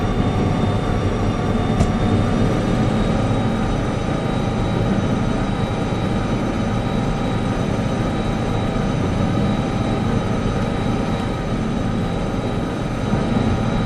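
A Derail Valley locomotive climbs a grade at full throttle with a steady, loud engine drone and rumble that continues without a break, plus a faint high whine, and no talking.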